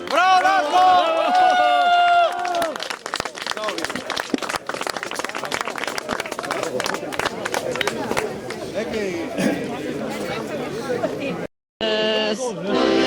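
A crowd at an outdoor ceremony lighting the Tito sign on Sabotin breaks into sustained, dense clapping for Darko. Voices and singing are heard at the start, and the applause carries on steadily for several seconds before a brief cut.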